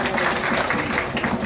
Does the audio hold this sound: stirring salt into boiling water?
no